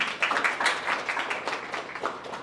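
An audience at a coaching academy demo applauds a speaker, a dense run of hand claps that stays steady and close before slowly thinning out.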